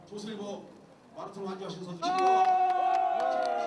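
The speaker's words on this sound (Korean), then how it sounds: "마을 사람들의 걱정이 환호로 바뀐다" Villagers in bad weather cheer and shout for a runner in a race in Seosan, South Chungnam, their voices rising into a loud, sustained cheer over the crowd, with people talking throughout.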